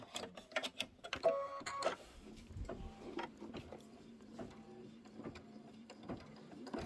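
An embroidery machine runs a placement and trim pass on a quilt block, producing quick rhythmic mechanical stitching and a brief whirring burst of trimming, close and fairly quiet with no talk.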